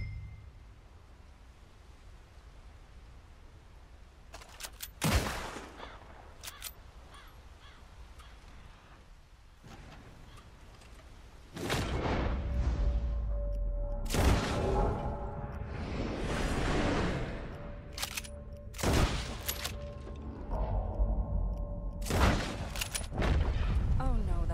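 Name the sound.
gunshots during target shooting in the video game Red Dead Redemption 2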